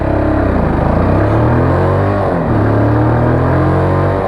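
A Lexmoto LXS motorcycle labours up a big hill in first gear, its engine droning loud and close with a steady pulsing note that dips briefly midway, then pulls on strongly.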